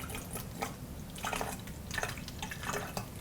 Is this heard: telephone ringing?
no